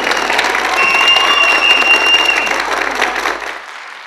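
Loud, close applause from an audience at a school speaking contest in Turkey: dense clapping at full strength for over three seconds, then quickly tapering off at the end.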